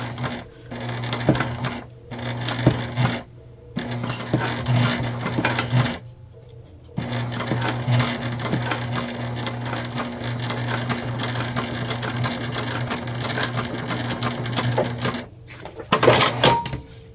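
A sewing machine stitches fabric seams on a candy bag, a close, steady mechanical hum broken by brief pauses as it slows at the seams, with clicks and handling noises between runs.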